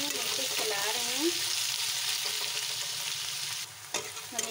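Onions sizzle in hot oil as they are stirred in a pan for a chicken dish, a steady bright frying hiss with scraping strokes of a spoon, close and continuous.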